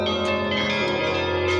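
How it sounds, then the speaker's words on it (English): Church bells ringing inside the Moscow Kremlin, a sustained resonant tolling with long overlapping hum, heard steadily from a distance in open air without talk. "Okay, let's just listen to the bells."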